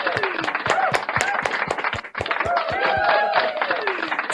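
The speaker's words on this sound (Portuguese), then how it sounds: "Vamos aplaudir o presente de Deus." Audience applause on a Christian television program, scattered, fairly loud hand claps in an uneven rhythm, with voices talking over them throughout.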